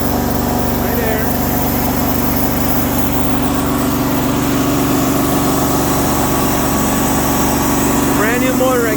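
A brand new engine on a Hydramaster Boxxer 432 carpet-cleaning truckmount runs at a steady, loud, continuous drone with a constant hum and no change in pace.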